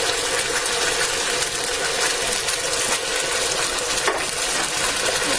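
Crushed tomatoes from two large cans hit a hot pot on high heat in a Ninja cooker, giving a loud, steady, broadband sizzle with light stirring scrapes throughout.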